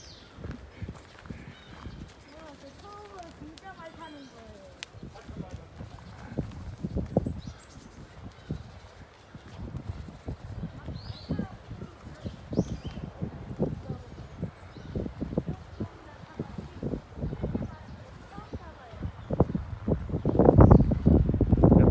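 A horse walking at a seaside riding experience gives soft clip-clop hoofbeats under wind noise and faint chatter, growing louder near the end.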